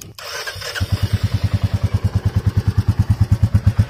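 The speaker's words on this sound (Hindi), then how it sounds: "ये आपका स्टार्टिंग का साउंड है आपकी न्यू क्लासिक का" A Royal Enfield Classic 350 motorcycle engine cranks and catches, then settles into a loud, steady thumping idle with an even rhythmic pulse.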